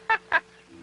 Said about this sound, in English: Another interesting animal you will see is the bird called the macaw.